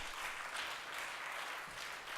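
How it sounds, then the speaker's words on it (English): A small audience at a fashion showcase and panel discussion claps briefly and softly, a short, faint patter of hands with no talk over it. "Give him a clap."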